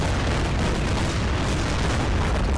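Naval guns bombarding coastal batteries in the Order of Battle: Pacific strategy game on Betio Island give a dense, continuous rumble of booms and blasts, loud and sustained throughout without talk.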